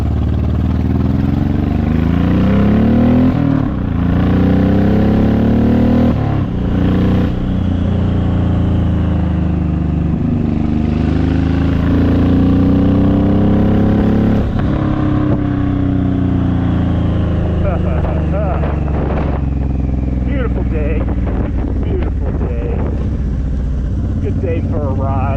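A Honda VTX1800 motorcycle rides through first-gear turns on a ridge-line road, its loud, low engine drone rising and falling with throttle and shifts over steady wind rush, while a rider talks over it at times.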